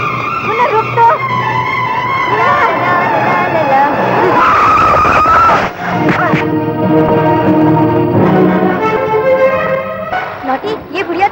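Loud, sustained car tyre skid squealing close by in a Hindi action movie scene, breaking off sharply partway through before continuing with vehicle noise and overlapping voices.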